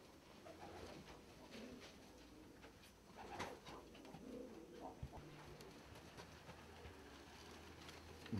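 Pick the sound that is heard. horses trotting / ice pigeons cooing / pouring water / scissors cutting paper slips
ice pigeons cooing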